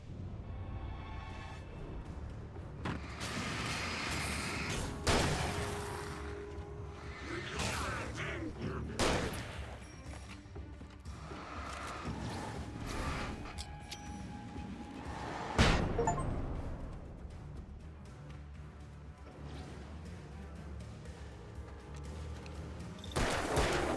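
Shotgun blasts in the video game Alan Wake ring out at intervals, loud sharp bursts mixed with other game noise and combat clatter throughout.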